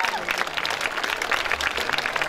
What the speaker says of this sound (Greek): ένα χειροκρότημα για το συνέδριο αυτό